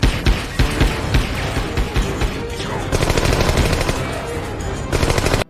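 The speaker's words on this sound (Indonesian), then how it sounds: "Ted pun berusaha mengejarnya hingga terjadilah baku tembak" Rapid bursts of automatic gunfire and single shots crack back and forth in an action film shootout, loud and dense throughout with a brief pause near the end before a final volley.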